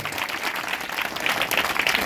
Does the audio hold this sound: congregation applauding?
yes